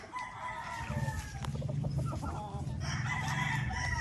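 A flock of hens and roosters is heard up close. Busy clucking and squawking fill the clip, with sharper calls rising near the end.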